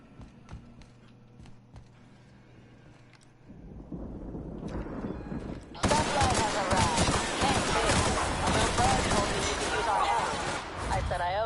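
Gunfire in the video game The Outer Worlds: quiet rumbling first, then a sudden dense, loud barrage of shots and impacts, with voices talking over it.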